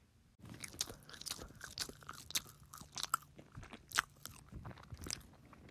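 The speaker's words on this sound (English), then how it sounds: "can you chew with your mouth closed" Someone chews Salisbury steak loudly with an open mouth at a camp meal, a wet, irregular run of crunches, smacks and bites close to the microphone with no talking over it.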